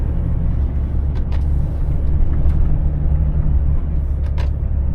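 A car engine rumbles steadily at close range on an uphill road in Norway, with a low droning strain and faint brief squeals as the tires lose grip and slip.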